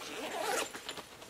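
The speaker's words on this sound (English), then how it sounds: "Once we unzip" A dual-zipper top front pocket on a Gonex travel duffel bag, a small carry-on personal item, is unzipped in one close, quick pull with a rasping zipper sound, alone.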